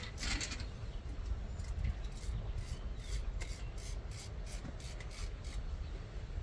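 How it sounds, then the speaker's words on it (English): A screwdriver works loose the front screw on the plastic cover plate of an analog pool timer, giving a close rhythmic series of gritty scraping and rubbing strokes that repeat steadily throughout. "We'll start out by taking off that front screw that holds the plastic cover plate on"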